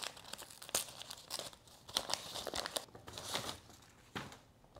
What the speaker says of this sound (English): let's go ahead, unwrap these bad boys and see if any of these is Edgar Allan Poe